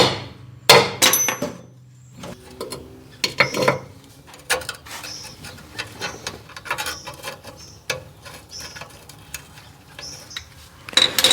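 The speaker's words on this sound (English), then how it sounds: "A couple of light taps with a hammer is all it took to set it free." Light hammer taps ring out on a drum brake wheel cylinder of a 1991-92 Toyota Land Cruiser, a scattered series of sharp clinks and knocks, some louder than others, close by with no talking.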